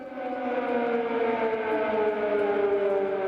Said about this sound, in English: Air raid sirens still sometimes punctuate the day in Kyiv.